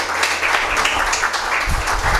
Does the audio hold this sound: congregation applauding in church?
yes